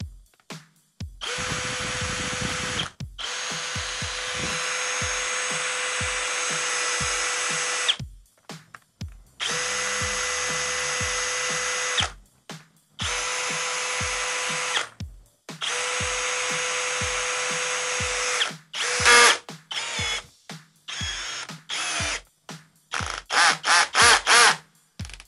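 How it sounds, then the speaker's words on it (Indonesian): A cordless power drill runs in repeated loud bursts of several seconds each, switching between plain drilling and hammer drill modes. Short gaps fall between the runs, and quick rapid triggerings come near the end. No one talks. "Untuk mode drilling. Kemudian untuk mode hammer drillnya."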